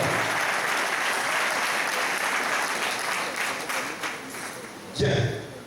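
A church congregation applauding at a dedication service, sustained dense clapping that holds steady, thins out near the end and then gives way to a brief voice.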